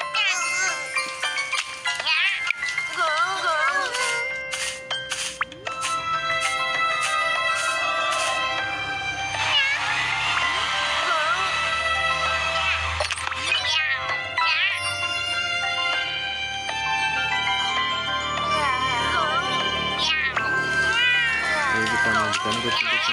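Cats and kittens meowing over and over, high, wavering cries that come close and clear over cheerful background music, with a voice speaking now and then.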